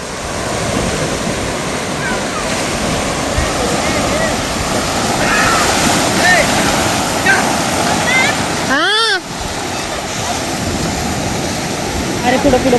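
Sea waves wash up on Vagator beach in North Goa in a loud, continuous, close surf roar, with a brief rising and falling whistle-like tone near the end.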